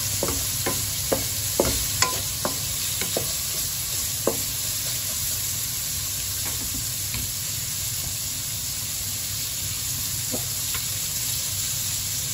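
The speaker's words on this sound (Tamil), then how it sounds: "எக் கிரேவிக்கு ஆனியன் நல்லா வதங்கணும்." Onions sauté in a pan for egg gravy, a steady close sizzle with a run of sharp spatula taps and scrapes early on, then mostly even frying with occasional clicks.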